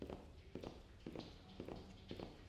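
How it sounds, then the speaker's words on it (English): Footsteps echo in a horror video game, a slow, regular series of soft thuds and scuffs about every half second, fairly faint and heard alone. "Oh no, I heard footsteps!"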